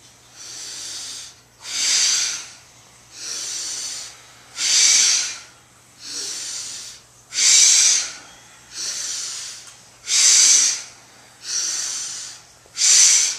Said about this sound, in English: Big, powerful breaths.